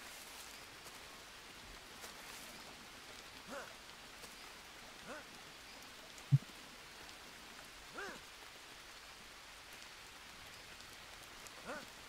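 Steady rain in the jungle survival video game Green Hell, a soft even hiss with scattered drop patters and a few faint short sounds, quiet throughout with no talk.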